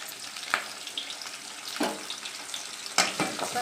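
Curry leaves hit hot oil for a peanut kara kuzhambu, giving a steady close sizzle broken by a few sharp crackling bursts and spatters.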